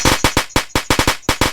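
Bijili firecrackers bursting for Diwali, a rapid string of about nine sharp, loud, close cracks in quick irregular succession with no talk.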